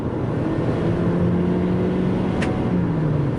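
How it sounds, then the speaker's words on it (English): A 2020 Toyota RAV4 Hybrid's gas engine under hard acceleration through its CVT gives a steady, smooth drone heard from inside the cabin, with a rising tone sustained throughout and no talk. "And even the engine, when you punch it,"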